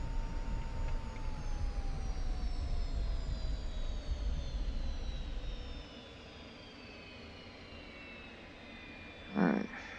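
An F-86F Sabre jet rolls down the runway for takeoff, its engine a loud, rumbling roar with high whining tones that slowly slide downward, then drops to a fainter, distant hum as it pulls away.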